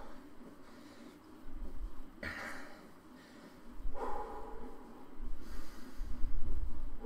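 Heavy, laboured breathing during an afternoon exercise session comes in several rasping breaths and snorting exhales, close to the mic and growing louder toward the end.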